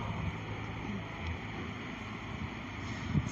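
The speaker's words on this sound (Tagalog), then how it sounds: "Kasi malakas yung hangin at ulan." Typhoon Quinta's strong wind and rain roar in a steady, dense rush with low rumbling gusts buffeting the microphone, fairly close, with a brief louder thump near the end.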